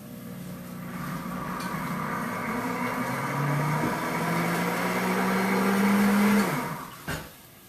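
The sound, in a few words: blender running its self-cleaning cycle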